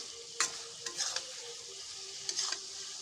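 A bitter gourd curry with mustard is stirred in a hot pan, giving a soft continuous sizzle with a few brief scraping strokes of the spoon, quiet and close.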